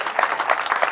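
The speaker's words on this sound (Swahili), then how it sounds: "Hebu tupigie Bwana makofi" A congregation claps for the Lord at a memorial service: a brief burst of quick, rhythmic clapping from many hands, moderately loud and steady throughout.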